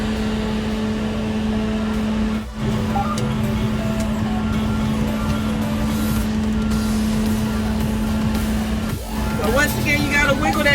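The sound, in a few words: truck reversing with reverse warning beeps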